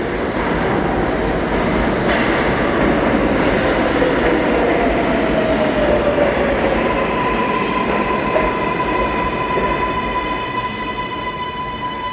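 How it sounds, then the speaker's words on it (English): A 7 train bound for Flushing sits at the Hunters Point Avenue platform in New York City, with a steady loud rumble, a rising wheel squeal midway and a high electric whine toward the end. "This is a 7 train bound for Main Street, Flushing."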